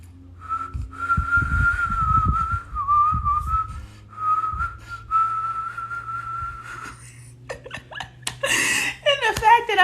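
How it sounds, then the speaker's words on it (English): Someone attempts to whistle, holding several steady, thin tones with short gaps between them, then breaks into laughter near the end, with low background rumble underneath. "I am trying to whistle because I will not be defeated by a whistle"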